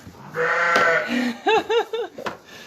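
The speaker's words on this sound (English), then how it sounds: "The sheep are chiming in." Several sheep bleat close by on a farm, a drawn-out wavering cry followed by a quick series of short, shaky bleats, loud against a quiet background.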